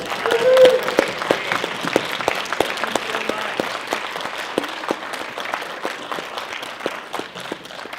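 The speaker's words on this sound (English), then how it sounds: "let's give these guys a huge round of applause." Sustained audience applause fills a Comic Con Revolution Ontario 2019 convention panel for the Transformers 35th anniversary, dense clapping steady throughout with a stronger burst near the start.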